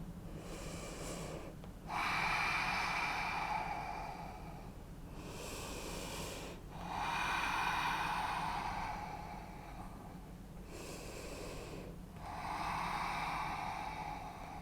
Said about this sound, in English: And just breathe here.